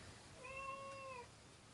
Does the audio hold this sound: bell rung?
no